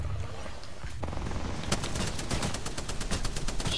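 Gunfire in the Apex Legends video game, where rapid bursts of automatic shots crackle steadily through most of the stretch over a dense, busy game background.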